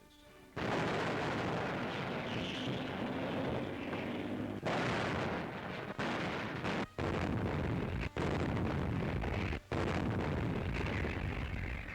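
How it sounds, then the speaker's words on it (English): Heavy and light artillery fire from 1945 wartime, a sustained loud barrage of booming blasts and rumbling detonations that rolls on almost without pause, broken by a few brief gaps. "Heavy and light artillery prepared the way for the advancing armies."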